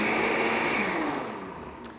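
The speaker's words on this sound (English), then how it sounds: "we're going to stir this up, break the tofu up a little bit, and then it'll come back together down in the bottom of the blender" A blender whirs loudly while mixing tofu sour cream, a steady motor whine that gradually softens as it runs, with no talk.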